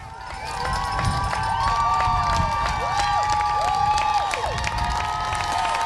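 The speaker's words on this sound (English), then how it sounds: "You can hear the crowd cheering," The crowd lining the Boston Marathon course roars and cheers steadily, with whistles and shouts riding over a thick wall of voices.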